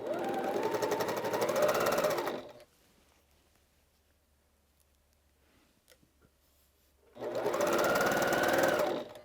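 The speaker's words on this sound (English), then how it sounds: "And I'm stitching with a 50 weight Aurifil in my machine." Sewing machine stitching a quilt block with 50 weight Aurifil thread: a fast, even motor-driven run of about two and a half seconds, a quiet pause with faint handling clicks, then a second burst of stitching.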